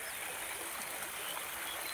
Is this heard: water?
yes